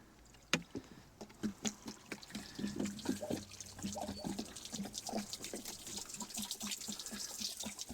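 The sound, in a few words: liquid poured into Mercruiser engine block during winterizing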